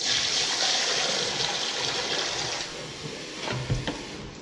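Water pours steadily into a saltwater fish tank, a continuous close hiss and trickle that tapers near the end into a few small splashes and knocks.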